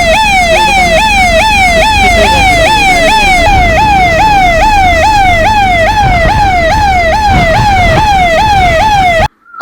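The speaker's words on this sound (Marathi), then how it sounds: "सायरनचा आवाज लावल्यानंतर आपण या सांगवी वेखो या गावामध्ये या बोटीतून पोहोचलेलो आहे" A mobile clinic boat on Bhatghar dam sounds its siren, a loud, steady, rapidly repeating wail that fills the whole stretch and cuts off abruptly at the end.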